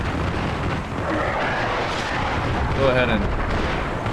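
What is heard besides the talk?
autocannon firing in a video game (Armored Brigade II)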